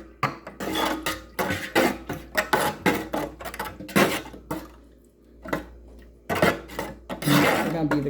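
A spoon stirs turkey gravy made with chicken broth in a pot, giving repeated close metallic scrapes and clinks in an uneven rhythm, with a brief pause midway before the stirring resumes.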